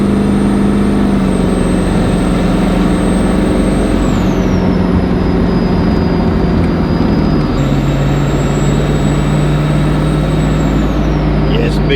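A Ford Powerstroke 7.3 diesel truck engine runs loud and close at about half throttle, a constant heavy drone whose pitch slowly sags and shifts, with a high turbo whistle and a voice talking over it.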